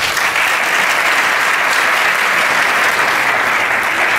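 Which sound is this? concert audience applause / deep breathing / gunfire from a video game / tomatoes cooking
concert audience applause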